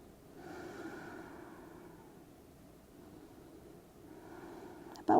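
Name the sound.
deep breathing in and out while stretching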